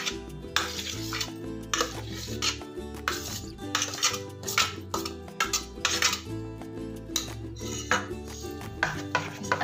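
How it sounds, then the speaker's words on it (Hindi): A spoon stirring boiled potatoes into a thick rice and semolina batter in a metal pot, with repeated clinks and scrapes against the vessel in an uneven rhythm, close and fairly loud. "अच्छी तरीके से बिल्कुल हमें इसमें मिला लेना है इसे।"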